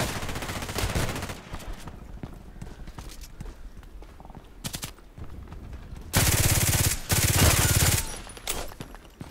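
Glock 18 machine pistol gunfire in the Contract Wars video game: several rapid full-auto bursts, loud and close, the longest near the end, separated by quieter stretches with game noise and voices talking.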